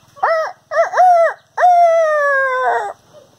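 Puppies howling close by, two short yelping howls followed by a longer sustained wavering howl, loud and clear against a quiet background.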